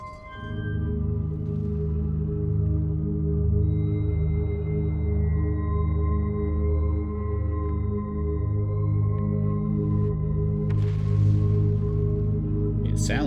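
A gravity cannon powering up in the space exploration game Outer Wilds, a steady deep layered mechanical hum with sustained tones that holds throughout, plus a short noisy burst near the end.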